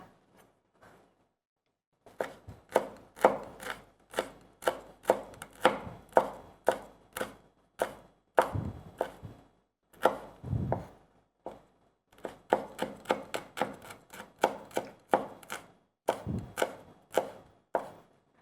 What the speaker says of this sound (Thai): พริกขี้หนู แดงเขียว ได้หมดเลย นี่ล้างเรียบร้อยแล้วนะคะ สักสามเม็ดเนาะ ซอยนะคะ